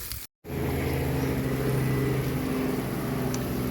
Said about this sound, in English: Sorry about the plane. We live close to a small airport.